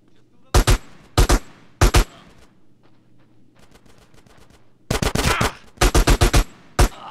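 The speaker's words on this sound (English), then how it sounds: "Give me some fucking covering fire!" Bursts of automatic gunfire in the video game GTA San Andreas, loud and close, firing in short rapid volleys separated by quieter gaps with faint background noise, then a longer sustained burst near the end.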